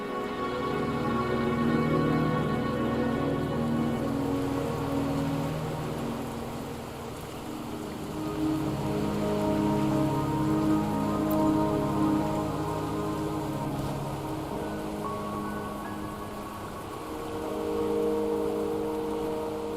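Rain in the game Wuthering Waves, a steady hiss of rainfall on surfaces running the whole time beneath a soft, swelling musical score.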